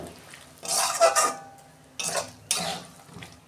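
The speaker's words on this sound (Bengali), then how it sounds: "ভালো করে আমি কষাবো যতক্ষণ না তেল ছাড়ে।" Soybean curry with spices being stir-fried in a pan, with bursts of scraping and clattering as a spatula works the pan, separated by quieter gaps and a faint underlying sizzle.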